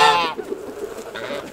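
Geese at a small farm honk loudly and close by: one strong, nasal honk opens, followed by softer honks and clucking sounds from the flock.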